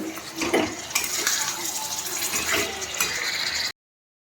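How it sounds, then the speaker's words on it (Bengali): Bhapa being stirred in a pot after the lid is lifted partway through steaming, giving a steady wet scraping and clinking of a utensil against the pot, fairly close and continuous for a few seconds before cutting to silence. "এবার নাড়িয়ে দিচ্ছি। এটা একটু নাড়ানোর মধ্যে রাখতে হবে।"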